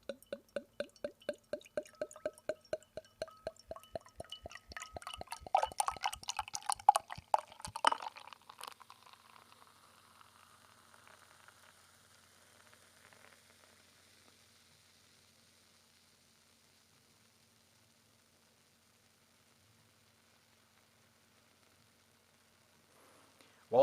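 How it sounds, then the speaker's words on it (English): Paulaner Münchner Hell beer glugs rhythmically from a bottle into a glass in quick close pulses, then settles into a soft fizzing of foam that fades slowly to near silence. "it pours beautifully"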